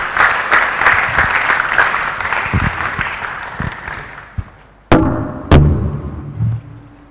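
Audience at a university mathematics day event breaks into applause that fades out over several seconds, followed by a few loud thumps and bumps, like microphone handling, as the room settles.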